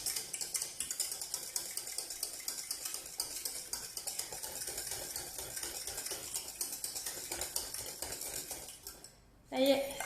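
Utensil stirring thickening chocolate éclair cream in a pan: a steady, fast scraping and clinking for about nine seconds under a soft background voice, ending in a brief louder clatter.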